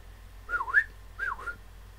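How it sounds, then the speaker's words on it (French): A lapwing whistles twice from the distance out over empty dunes, each call a brief rising and falling note, with a short pause between the calls and nothing else audible beyond a low steady hum. "Siffla un vanneau dans le lointain."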